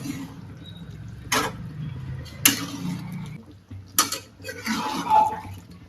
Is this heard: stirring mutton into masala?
yes